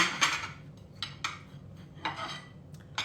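Blue Ridge pattern dishes being handled, faint light clinks and taps of china in a few scattered bursts, quiet and close with no talking.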